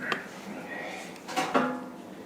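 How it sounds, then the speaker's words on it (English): A metal pan is pulled out in a home kitchen for canning pumpkin, giving a couple of close clanks and scraping rattles of cookware over a short stretch. "We're going to get our pan."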